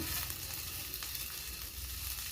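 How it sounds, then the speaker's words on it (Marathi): Steady, loud sizzling of food frying in a hot pan, a continuous crackling hiss with faint stirring, no voices. "कढईमध्ये ना सुरुवातीला कांदा परतून घेऊ"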